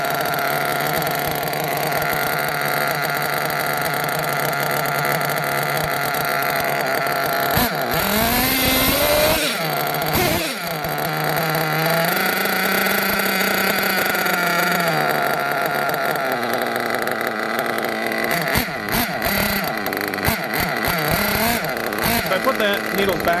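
A nitro RC engine runs steadily after needle tuning. Its loud, buzzing drone holds for the whole stretch and shifts a little in pitch, with someone talking over it throughout.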